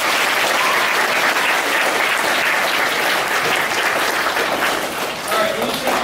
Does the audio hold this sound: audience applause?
yes